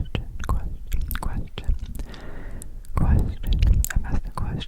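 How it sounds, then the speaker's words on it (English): Close, intimate whispering is mixed with wet gum chewing and clicky mouth sounds, moving ear to ear in an ASMR reading session, with irregular smacks and breathy passages. "whispered reading, whispering with mouth sounds and gum chewing"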